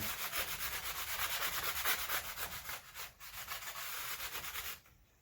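Rhythmic, close-up sanding strokes rub back and forth steadily over the frets of an Indio (Monoprice) Telecaster electric guitar, stopping abruptly near the end.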